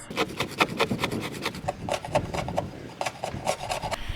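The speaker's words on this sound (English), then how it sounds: "the best way to do a good job is to grab some scrapers and get everything off the hull down to bare fiberglass" Scrapers rasp rhythmically across a boat hull, stripping it down to bare fiberglass, with a quick run of close, repeated scraping strokes at a fairly even pace.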